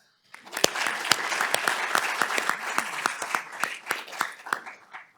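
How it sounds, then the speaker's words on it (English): An audience at a panel discussion breaks into applause, claps rising quickly after a brief silence, sustaining a moderately full round of distinct, crisp claps, then thinning toward the end. "Please all join me in the round of applause for Seth."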